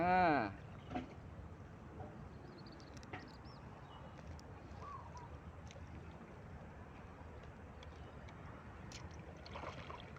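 Paddle strokes splash faintly as a raft is paddled on water during a fishing outing, a soft irregular dipping and trickling in a quiet outdoor setting after a brief loud knock at the start.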